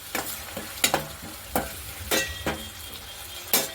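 Peanut powder being stirred into a thick tomato gravy for masala bhindi, an okra curry: about seven distinct scraping strokes of a spoon against the pan, close and evenly spaced, over a faint simmer.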